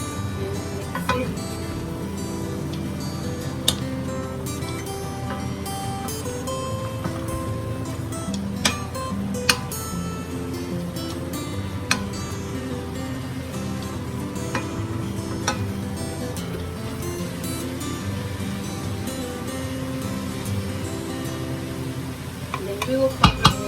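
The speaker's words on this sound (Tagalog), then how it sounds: "And mix it." A food mixture is stirred in a pan over heat, with a soft continuous sizzle and repeated scraping and tapping of a utensil against the pan, steady and close for over twenty seconds.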